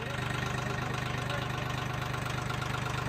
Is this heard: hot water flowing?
no